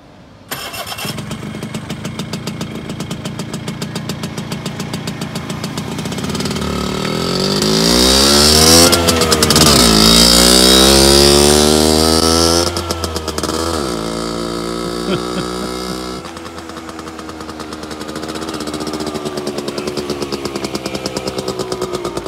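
The engine of a 2022 Hudson starts, then idles at a steady rattle, revs up to a loud, rising whine that peaks in the middle and settles back to a steady, close idle, with no talk.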